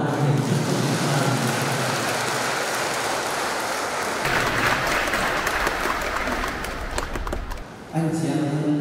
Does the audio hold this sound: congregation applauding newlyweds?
yes